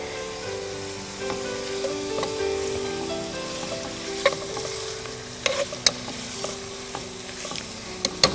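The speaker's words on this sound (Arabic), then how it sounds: "نحطوا اللحم يتقلى مع البصل" Meat and onion fry in a pan with a steady, close sizzle, broken by a few sharp scrapes and clicks of stirring toward the end; no one speaks.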